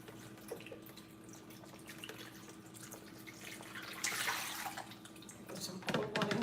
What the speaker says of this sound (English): I'm going to put the water inside here